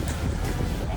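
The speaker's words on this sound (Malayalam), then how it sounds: "നമ്മളിവിടുന്ന് ബോട്ട് എടുത്തു" A boat heads out from the shore in the Maldives, its engine a steady low rumble under broad wind and water noise, loud and continuous with no break.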